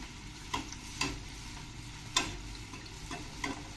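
A potato twister street snack fries quietly in a small amount of oil. A low, faint sizzle runs throughout, broken by a few sharp taps and clicks of a utensil turning it.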